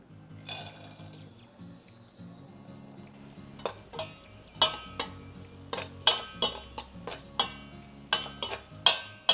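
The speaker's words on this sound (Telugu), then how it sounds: "నెయ్యి వేసాను. ఇప్పుడు డ్రై ఫ్రూట్స్ వేస్తున్నాను." Dry fruits fry in ghee in a pan on a gas stove over low flame for sheer khurma. A spoon repeatedly scrapes and clinks against the pan in an irregular rhythm over a faint, steady sizzle.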